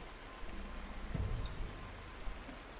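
Rain falls steadily in the war strategy game Panzer Corps, a soft continuous patter with a low rumble of thunder swelling briefly in the middle, with no talking.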